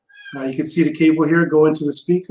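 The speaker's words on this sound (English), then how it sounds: "You could hear him meowing here." A male cat meows several times in a room with an amplified PC speaker setup, its calls overlapping someone talking nearby.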